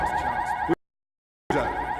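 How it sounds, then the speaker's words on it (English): Alarm blaring in the video game Dreamfall Chapters, a loud continuous wailing tone that cuts out abruptly mid-clip, leaves a stretch of silence, then resumes. "The alarm must have been triggered by the dream machine."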